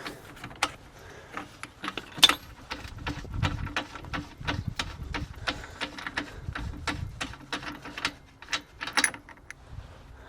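A ratchet with a six-sided socket works the rear hub nut on a 2013 Vauxhall Corsa with drum brakes, giving rapid clicking pawl bursts and metallic clacks close up, with no talking.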